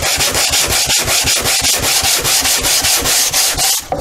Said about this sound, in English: I recommend a sanding block of some kind